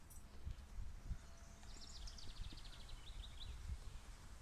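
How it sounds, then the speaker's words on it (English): Birds sing faintly on the windy grounds of a country inn in Clark, Pennsylvania, a quick run of high chirps partly masked by wind rumble and rustling. "You can hear the birds singing."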